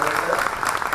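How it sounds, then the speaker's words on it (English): An audience applauding panelists and moderators at a discussion event, with dense, even clapping at close range that fills the whole moment with a voice faintly under it. "Friends, a big round of applause for all our panelists and moderators."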